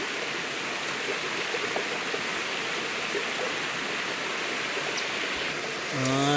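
Steady rushing water of a forest stream on a mountain trail, a constant broadband flow, close and loud, with no talk.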